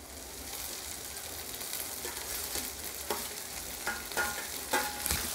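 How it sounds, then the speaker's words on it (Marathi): Capsicum sautéing in a pan for pav bhaji, a continuous bright sizzle with spatula scrapes and clinks growing more frequent toward the end, no talking. "आता ढोबळी मिरची घालूया."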